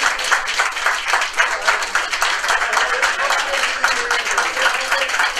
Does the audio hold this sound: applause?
yes